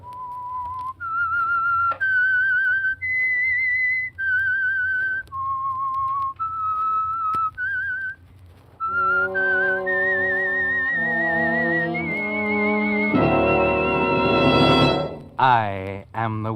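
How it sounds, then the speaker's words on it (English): A lone whistler performs the eerie theme of a vintage radio mystery drama, a slow melodic line of clear sustained notes, joined midway by orchestral chords that swell to a loud close. "That whistle is your signal for the Signal Oil Program,"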